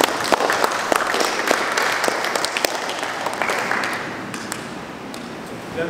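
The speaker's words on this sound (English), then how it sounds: "May I ask that we give her another" An indoor audience at a college activities day applauds with dense, steady clapping that fades slightly toward the end.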